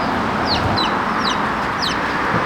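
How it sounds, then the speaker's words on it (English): Chickens and young chicks cluck and peep outdoors on the east coast of Oahu, Hawaii, with short, high calls repeating several times over a steady background of outdoor ambience. "I see you got some new chickies."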